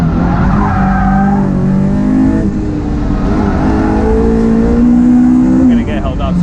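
A Honda S2000 race car on track, its engine droning loudly with shifting pitch as it rotates under heavy braking, tires squealing near the end, recorded close from inside the car.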